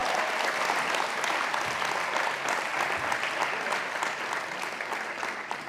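An audience at a public meeting in La Courneuve applauds, a sustained, dense crowd clapping heard at moderate distance, fairly even and tapering slightly toward the end.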